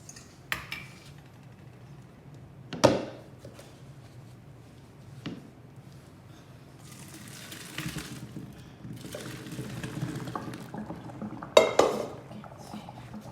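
Boiled German noodles drained in a kitchen: scattered clatter of a pot and utensils, then a sustained wash of pouring, splashing water building toward the end, with a few sharp metallic knocks, no talk.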